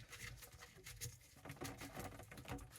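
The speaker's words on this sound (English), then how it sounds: "You can hear some water coming out." Water patters and trickles steadily into a container, a faint, irregular splashing that continues throughout without any talking.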